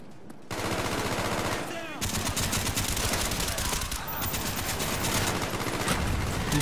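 Rapid automatic gunfire and scattered shots from a Call of Duty Black Ops match on the Nuketown map, loud and close, rattling almost without pause through the whole stretch.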